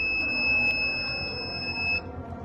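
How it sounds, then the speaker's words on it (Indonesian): An ESP32 temperature monitor's buzzer alarm sounds as a piercing steady high beep for about two seconds before cutting off, heard close over low room hum. "alarmnya akan berbunyi karena di sini kita ngeset alarm dari si buzzernya itu"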